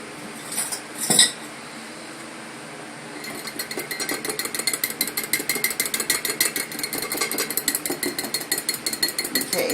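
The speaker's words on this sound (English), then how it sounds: "Give it a little whisk." A whisk beating liquid smoke into a mixture in a bowl, rapid rhythmic metallic clinks against the bowl, close and steady, after a couple of louder knocks at the start.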